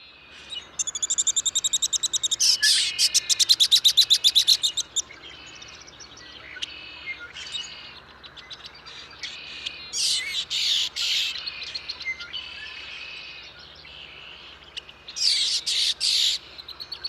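A female red-winged blackbird gives her rattle song: rapid, buzzy chattering trills in three separate bursts, loud and fairly close, with quieter calls between them.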